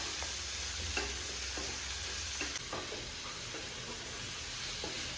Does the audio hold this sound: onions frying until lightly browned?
yes